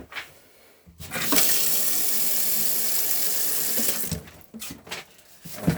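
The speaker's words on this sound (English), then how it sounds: "you'll open up the tap in the kitchen and the tap in the shower also" Water runs from the taps of a 2018 Sprite Major 4SB caravan, a steady, loud rushing gush that starts abruptly, holds for about three seconds, then cuts off, leaving a few small drips and clatters.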